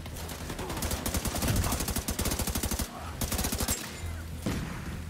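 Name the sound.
gunfire in The Division 2 video game firefight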